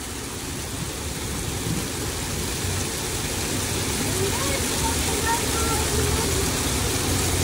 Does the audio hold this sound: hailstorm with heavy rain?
yes